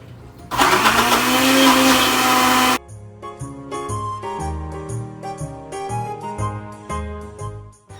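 A kitchen appliance purees tomatoes for pasta sauce, a loud steady motor whir running for about two seconds, then cutting off abruptly, after which a tonal melodic backing plays on its own.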